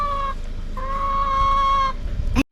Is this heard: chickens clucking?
yes